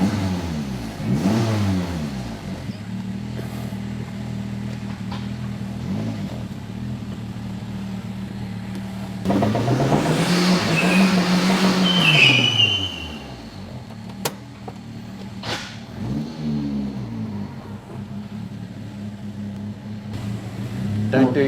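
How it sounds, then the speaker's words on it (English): A turbocharged K3 Daihatsu Charade, completely untuned, revs hard while doing shed skids, its engine repeatedly rising and falling, with one sustained high-rev howl and tyre squeal in the middle, loud and close. "Don't do shed skids in your completely untuned car"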